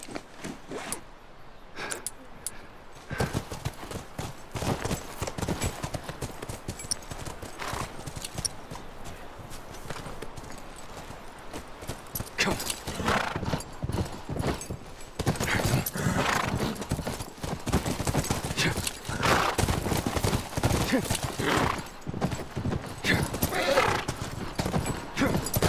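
Horse hooves clip-clop steadily at close range, with snorts and a whinny, plus rustling and creaking tack; the sounds build louder over the second half.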